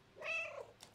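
A single short meow with a tonal, slightly purring edge from the cat character in the video game Stray, close and clear, lasting under a second with no talk over it.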